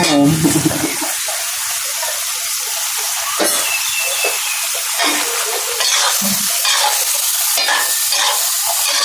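Squid and chopped long beans stir-fry drunken-noodle style in a hot pan, a steady loud sizzle with repeated scraping stirs and clanks throughout, no talking.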